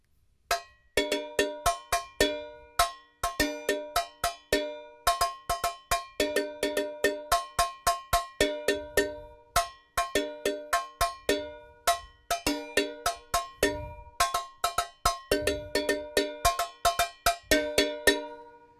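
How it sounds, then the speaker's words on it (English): Sticks drumming on a coffee can as a found-sound instrument, ringing metallic hits in a fast, steady groove made of repeating bursts, loud and close, with no voices over it. "So we'll call that our coffee can sound, our coffee can jam."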